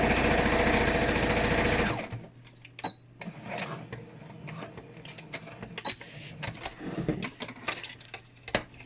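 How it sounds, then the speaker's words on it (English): Sewing machine straight-stitching a homemade fabric face mask: a loud, fast continuous whir for two seconds, then stops, followed by scattered clicks and handling noises close by. "Put it back into the machine. Straight stitch still. And go straight down."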